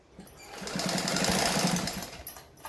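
Sewing machine stitching a katori blouse: a quick run of rapid, even needle clatter that swells and fades over about three seconds, close and fairly quiet.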